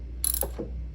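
Ratchet wrench clicks while tightening the alternator belt tensioner bolt on a 2005 Honda Fit, a short burst of close mechanical clicking over a steady low hum.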